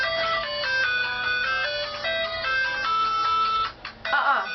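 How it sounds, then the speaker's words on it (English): A phone ringtone plays loud and alone as a bright electronic melody of stepped, sustained tones, broken by a short gap near the end before a final burst of notes. "Ringtone battle? It's not even a ringtone battle"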